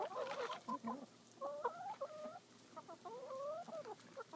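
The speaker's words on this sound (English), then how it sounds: "you got a whole bunch of chickens" A flock of backyard chickens clucks and warbles steadily during hand feeding, with a string of close, tonal calls over a soft outdoor hiss and no talking.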